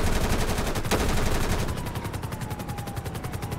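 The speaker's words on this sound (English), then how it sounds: "Literally taking shots right by a beach full of people." A coast guard helicopter in GTA 5 fires on a boat near a beach, loud continuous rapid machine-gun bursts sounding rhythmically throughout with a whirring rotor underneath.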